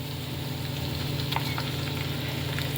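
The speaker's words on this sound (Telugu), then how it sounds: "మనం మిక్సీ పెట్టుకున్న పచ్చడి వేసేసుకుందాము" Ground brinjal and tomato chutney hitting a hot tempering in a pan, giving a steady close sizzle and frying hiss with faint stirring, no talk.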